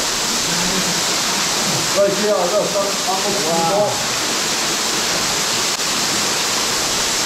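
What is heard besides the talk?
water pouring down inside a Welsh metal mine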